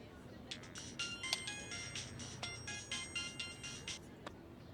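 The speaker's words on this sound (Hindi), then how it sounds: "किसका फोन है?" A phone ringtone repeats in a steady electronic melodic pattern of bright pulsing tones, moderately loud, over a low background hum in a home setting.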